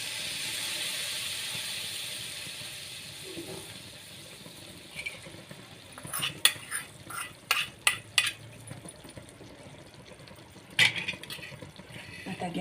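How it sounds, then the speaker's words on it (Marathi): A hot garlic tadka hisses as it is poured over simmering lasooni palak, a garlic spinach dish. Several sharp metallic clinks and clatters of a spoon against the pan follow, loud and close. "उकळी आलेली आहे एक, आणि त्याच्यावरती फोडणी घालून घेते."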